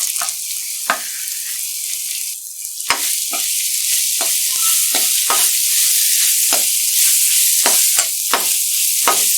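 Cut raw mango pieces hitting hot oil with chilli powder for an instant mango pickle, a loud continuous close sizzle with occasional sharp spatters and stirring clicks, no voices.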